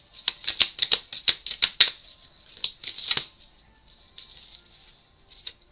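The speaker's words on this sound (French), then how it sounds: "On va aller chercher une carte, dernière carte conseil." Oracle cards being shuffled and drawn, a quick run of crisp riffling flicks and snaps close by, then a few softer card slides and taps with pauses, no talk.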